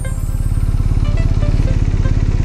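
Horizontally opposed boxer-engine motorcycle running steadily, a dense low pulsing rumble throughout at close range with faint higher tones above; no talk.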